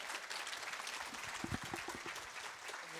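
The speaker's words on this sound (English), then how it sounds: "And a small round of applause," A small round of applause from the audience at an internet-policy conference talk, a brief, fairly quiet patter of clapping that is heard a little way off.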